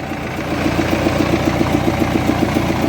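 A tractor engine idles steadily close by, with a regular low chugging pulse and no voices; the tractor has developed an unusual noise near the motor.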